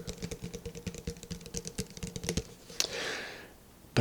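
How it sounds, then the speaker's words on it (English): Fingertip pads type on a mechanical keyboard with brown switches, producing quick, close, thuddy clicks in a steady patter for a couple of seconds, then a softer rustle before one last sharp tap. "using the bottoms of your fingers, like the pads, is like using a brown switch that has a little bit more of a thud to it on a mechanical keyboard"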